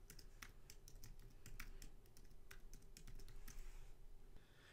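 Steady typing on a computer keyboard in a quiet room, a name being entered while configuring a cloud job definition, with dense rapid key clicks continuing throughout at moderate level and no voices.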